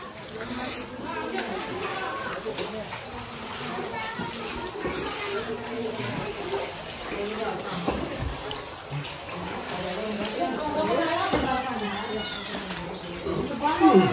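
Water runs from the hillside into a stone tank at Parasgad near the Renuka Yellamma temple in Saundatti, a steady wash of flow under continuous nearby voices and chatter.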